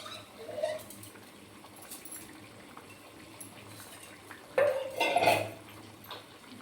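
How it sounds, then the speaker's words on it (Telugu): Rice being stirred into boiling water in a pot for vegetable masala rice: a quiet simmer underneath, with a few sharp spoon-on-pot scrapes and clinks that peak near the end. "కలుపుతున్నానండి రైస్ వేసి."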